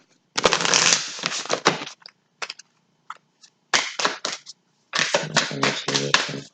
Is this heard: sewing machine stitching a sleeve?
no